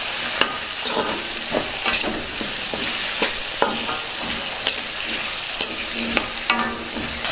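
Potato pieces fry with onions in a hot pan, a steady sizzle broken by repeated scraping, clattering stirs of a spoon against the pan, close and busy throughout.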